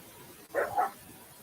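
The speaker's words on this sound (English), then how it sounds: "they'll start barking at each other like that" Two quick, high-pitched yips from playful puppies barking at each other, fairly close and alone against a quiet background.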